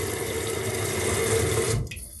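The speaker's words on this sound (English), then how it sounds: "When the tank flushes and the water goes down" A toilet tank flushes during a tune-up, water rushing and draining steadily and loudly for nearly two seconds before cutting off sharply into quieter trickling.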